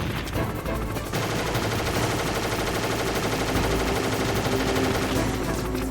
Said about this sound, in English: when you do hit him, move to the opposite side of this box, because he will shoot at you